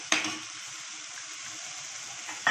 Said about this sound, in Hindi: अब इसमें हम डाल देंगे जो 1/2 कटोरी दही हमने लिए थे वो ऐड कर देंगे